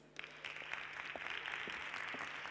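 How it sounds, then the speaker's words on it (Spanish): Audience applause in an auditorium greeting someone speaker, entrepreneur and founder of two companies, at a conference talk; a steady crowd clapping of moderate loudness swells in after a brief quiet start and continues throughout. "Y pido un fuerte aplauso para ella."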